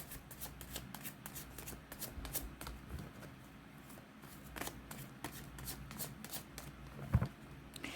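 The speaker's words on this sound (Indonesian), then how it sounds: "saya kocok kartunya" Tarot cards being shuffled by hand close up, a steady run of soft riffling and flicking crackles with a sharper snap near the end, quiet and with no talk over it.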